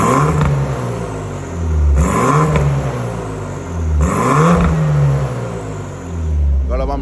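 A stage 1 BMW 428i with a downpipe and its exhaust valve opened revs hard up close, with three distinct rising blips separated by a rumbling idle, louder and deeper than stock.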